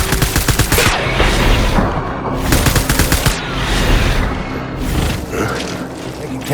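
Heavy automatic gunfire in Death Stranding, loud sustained bursts in rapid succession with brief lulls between volleys, no talking.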